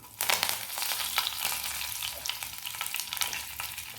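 Curry leaves dropped into hot oil with asafoetida crackle and sizzle hard, a dense close spitting fry that carries on steadily for a few seconds with no voices.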